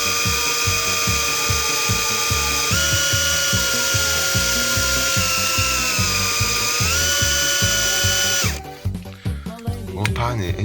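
A power drill boring into wood whines steadily with a rhythmic grinding chatter, its pitch shifting slightly, then it stops abruptly and rustling noises follow.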